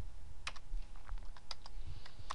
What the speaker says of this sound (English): I'm typing the text in